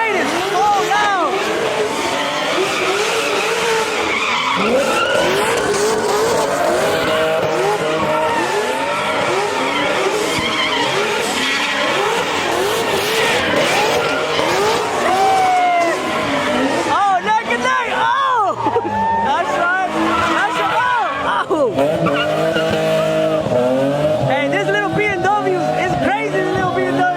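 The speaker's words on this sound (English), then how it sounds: "That G8 is so loud!" A loud Pontiac G8 revs hard and skids with screeching tires at a crowded Cinco de Mayo car meet, engine roar sustained and close throughout, with crowd noise and voices mixed in.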